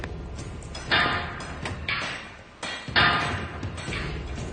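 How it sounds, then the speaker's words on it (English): Rivets are hammered home by a work crew, giving repeated loud metallic blows in a steady rhythm over constant clattering background noise, with no talk. "this crew hammers home some 700 rivets"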